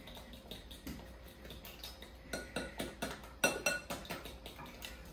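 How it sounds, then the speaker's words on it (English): Eggs beaten with sugar in a bowl for challah dough, a quick run of rhythmic whisk clicks against the side, growing louder and denser midway, close and without talk. "if you beat the eggs with the sugar, that helps make it fluffy"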